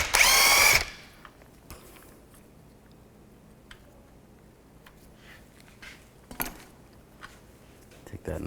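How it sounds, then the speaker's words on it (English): A power tool fitted with a 21mm socket spins off the front strut nut on a 2005-2010 Chevy Cobalt: one loud, close whirring burst of under a second, then near quiet with faint scattered clicks and handling noises. "Using a 21mm socket, I'm going to take the nut off."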